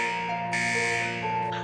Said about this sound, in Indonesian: tampak alarm paket yang berbunyi kembali